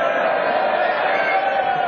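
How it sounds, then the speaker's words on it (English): A crowd at a Mosconi Cup 2012 pool match reacts with a steady, swelling murmur and hubbub of many voices, heard close and continuous throughout. "listen to the crowd"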